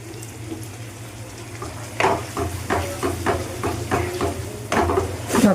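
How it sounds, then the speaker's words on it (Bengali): Spices with a little sugar and water are sautéed in a pan for a snake gourd curry, giving a low steady background with repeated close scraping strokes of stirring, louder in the second half, with no talk. "এটাকে ভালো করে কষিয়ে নেব অল্প করে একটু চিনি দিলাম"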